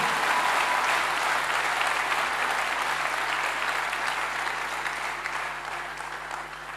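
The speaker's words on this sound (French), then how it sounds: "Clap for Jesus." Sustained, dense applause from a church audience clapping in praise, loud and even throughout before fading slightly toward the end, with no talk over it.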